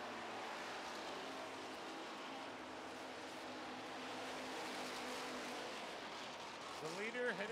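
Street stock race cars roar down the back straightaway of an oval track at a feature race, a steady blur of engine noise from the field, with a commentator talking over it and a car passing close near the end.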